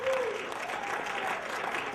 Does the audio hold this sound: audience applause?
yes